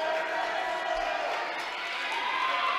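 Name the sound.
crowd cheering for bench players at a basketball game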